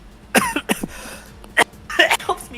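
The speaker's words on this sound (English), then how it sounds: "And you're clearing your throat." A character in the Va-11 Hall-A video game clears their throat in several short, gruff bursts, close and fairly loud, with brief pauses between them.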